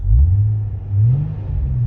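An Infiniti engine fitted with a modified exhaust idles with a deep, steady burble that swells twice, loud and close with no talk over it.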